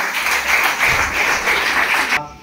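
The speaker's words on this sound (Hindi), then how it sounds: "तो गोटे जोरदार करताली हो।" Loud, close applause welcoming honoured guests at a tree-planting function with the Koraput MP, a thick rolling clatter of many hands that stops abruptly near the end.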